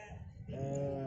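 A single short, close bleat from a sheep at an Indonesian livestock sale, rising out of quiet background noise and held briefly to the end.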